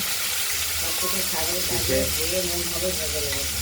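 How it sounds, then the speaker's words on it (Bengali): Cleaned prawns coated in salt and turmeric fry in hot oil in a kadai, giving a dense, loud, continuous sizzle and hiss close by, with a faint voice murmuring underneath. "এবার তেল গরম হয়ে গেছে, চিংড়িগুলো ছেড়ে দিলাম।"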